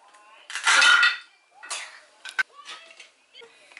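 A toy knife slices through pieces of a toy vegetable cutting set: a loud clattering scrape first, then several lighter clicks and knocks, all close by.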